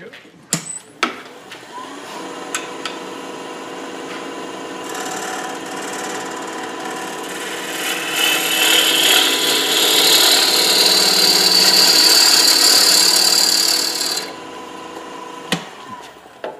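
Wood lathe spinning wet wood as gouges cut a hollow enclosed form, a steady motor hum that swells into a loud hissing, scraping cut for several seconds, then eases back, with a few knocks at the start and end.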